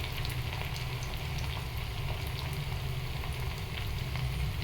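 Steady, dense bubbling and sizzling of oil in a pan, continuous and fairly close, with no voices over it.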